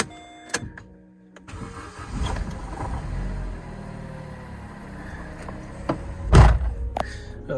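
A small 1.2-litre Vauxhall Corsa five-door cranks briefly and catches, settling into a steady mid-pitched idle, with a few sharp thunks and a louder clunk near the end.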